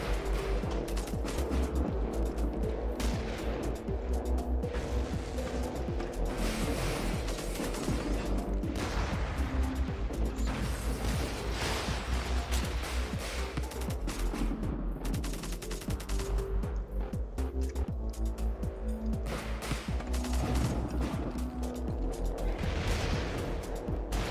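Heavy naval cannon fire from a ship-combat video game using a Pompeii City vessel with basilisk and hydra guns, a dense, continuous barrage of overlapping booms and blasts throughout, loud and unbroken.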